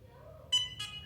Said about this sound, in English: when there's 2 beeps, that was pretty quick, I move to the next spot